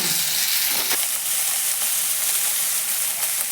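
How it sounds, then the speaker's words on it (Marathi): Onion and capsicum fry in a pan with a steady, fairly loud sizzle and hiss, plus a brief stirring scrape near the start, heard close with no talking. "कांदा आपण चांगला भाजून आता आपला कांदा भाजणार"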